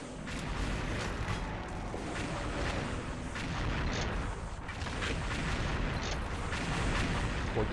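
Gunshots from the video game XShot sound as a constant stream of rapid, booming shots and impacts, dense and fairly loud, with no pauses.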